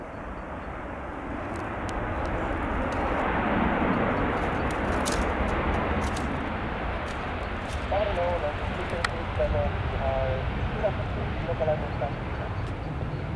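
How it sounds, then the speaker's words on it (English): A Ryanair jet airliner's engine roar as it comes in to land at London Stansted Airport, steady and broad, held throughout as it passes nearby, with faint clopping or tapping sounds in the later part. "And here's the Ryanair, just coming in from its circuit."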